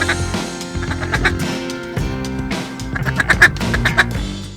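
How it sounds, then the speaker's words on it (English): A crowd of ducks in the Mississippi Flyway, at the meeting of the Ohio and Mississippi rivers in Ballard County during a hunt, quacks loudly and continuously in overlapping bursts, close and busy, with no talking. "a lot of ducks come here."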